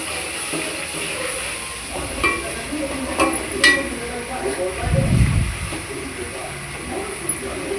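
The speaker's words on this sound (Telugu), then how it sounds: "కొంచెం అల్లం వెల్లుల్లి పేస్ట్ వేసి ఆయిల్లో మంచిగా ఫ్రై చేసుకోండి" Ginger garlic paste fries in hot oil with a steady sizzle and hiss, broken by stirring scrapes, while a person talks over it.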